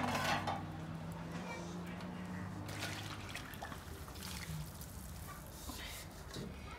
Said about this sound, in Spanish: ahora le voy a poner el chile.